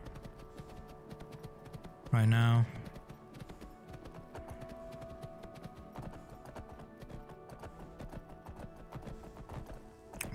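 Horse hooves clip-clop steadily through a Skyrim game scene, a soft repetitive rhythm that sits under a brief spoken phrase and a short loud burst.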